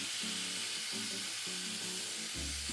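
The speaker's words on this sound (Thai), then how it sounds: "กระทะเราร้อนแล้ว เราก็เอาหมูแดงที่เราหมักไว้ลงเลยค่ะ" Marinated red pork (moo daeng) hisses and sizzles steadily in a hot pan, loud and close throughout, with a brief clatter near the end.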